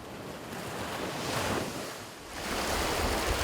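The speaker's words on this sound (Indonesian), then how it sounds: "Hamparan pantai yang indah dengan lautan yang luas sejauh mata memandang" Sea waves wash onto the beach at Sabang in a steady, broad roar of surf with swelling and easing breakers and some wind noise, and no voices.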